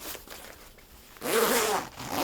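A YKK AquaGuard zipper on an OS3 Coastal jacket is drawn in a couple of close, rasping pulls, a softer stretch first and then a louder, sustained zip.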